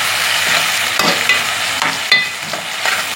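Ingredients for urundai kuzhambu sauté in a pan, giving a close, loud sizzle with scraping stirring strokes that recur every second or so across the short stretch.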